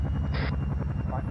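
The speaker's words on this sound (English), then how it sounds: "Why the helicopter?" A helicopter in the military video game Arma 3 drones loud and close with steady rotor chop and turbine whine, filling the whole short stretch without pause.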